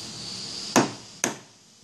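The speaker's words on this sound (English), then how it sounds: "I'm taking the lead hammer, and I'm going to tap on the chuck in each of three locations." A lead hammer taps twice on a long taper L00 lathe chuck. The two sharp metallic knocks come about half a second apart, each with a brief ring-out over a faint background hum.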